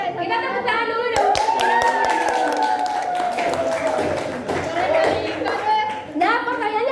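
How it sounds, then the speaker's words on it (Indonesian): Classroom audience of children clapping hands together in a dense, steady round of applause, with a voice and other speech rising over the clapping throughout. "Kita tepuk tangan dulu dong."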